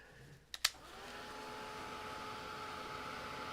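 A hair dryer blows steadily on a fresh painting after two sharp clicks as it switches on, a continuous even whoosh at moderate level with no talking.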